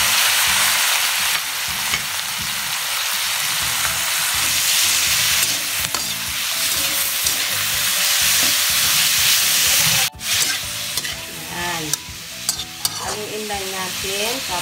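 Meat stir-fried with onions, tomatoes and garlic gives a loud, continuous hissing sizzle with steady stirring scrapes, easing after about ten seconds into quieter sputtering and clinks.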